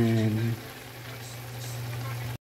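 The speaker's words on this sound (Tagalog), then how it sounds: "Kumukulo na siya." Pot of vegetables (pechay, okra and sweet potato leaves) boiling on a stove, giving a steady close bubbling hiss; a low hum and brief voice in the first half second fade to the continuous simmer.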